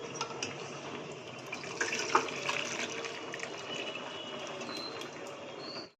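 Hot chicken soup is poured from a pot into a bowl, a soft continuous liquid stream with a few small splashes. It runs steadily and fairly quietly for several seconds, then stops. No voices are heard.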